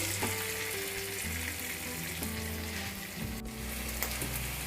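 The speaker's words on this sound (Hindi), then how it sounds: "मैंने प्याज और कैप्सिकम को हल्का हल्का फ्राई कर लिया है" Onion and capsicum frying lightly in a pan give a steady, moderate sizzle. A few tonal background sounds and one sharp click come near the end.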